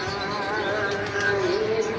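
Pigeons of a rare breeder strain cooing in their loft, a soft rolling coo rising and wavering over steady background noise.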